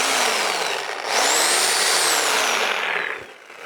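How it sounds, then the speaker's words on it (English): A Sawzall reciprocating saw drawing 10 amps, powered through a 60 volt inverter from a Sur Ron Light Bee e-bike battery, whines loudly at a steady high pitch that rises as it speeds up, then dies away. "We have a Sur Ron Light B battery powering a 60 volt inverter with a Sawzall"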